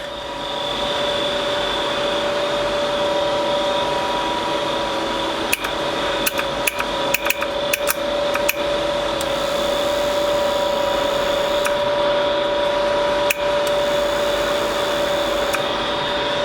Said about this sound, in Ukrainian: І осцилятор у нас працює.